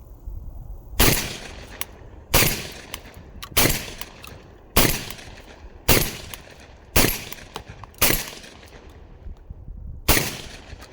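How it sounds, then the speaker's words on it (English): A Benelli M4-clone shotgun fires Monarch high brass shells in eight loud, evenly spaced blasts about every 1.2 seconds, each with a short ringing decay and no speech between. "I'm shooting that Monarch high brass 1350 feet per second, and of course I feel the recoil is stronger."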